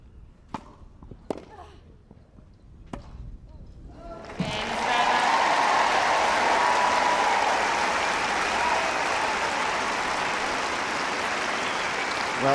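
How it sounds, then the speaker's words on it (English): A few sharp ball strikes ring out sparsely at a tennis final, then a large crowd erupts into loud, sustained applause after a break point, the clapping continuing steadily to the end. "Well, that applause will tell you what they think about it here."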